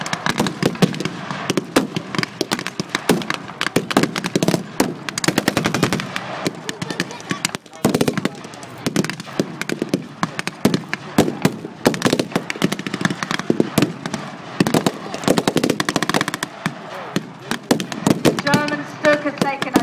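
M8 armoured cars and troops firing at a Battle of the Ardennes re-enactment in Kent: dense, continuous crackling gunfire and popping blasts, with a voice talking over the din.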